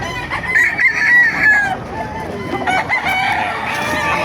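A Melsin Gray rooster crows loudly and up close at a busy chicken market in Bocaue, Bulacan. Other fowl cluck and clamor around it, and people can be heard talking in the crowd.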